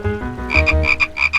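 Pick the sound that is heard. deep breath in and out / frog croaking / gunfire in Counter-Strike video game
frog croaking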